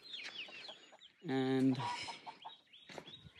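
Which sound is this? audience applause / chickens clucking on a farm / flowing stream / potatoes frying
chickens clucking on a farm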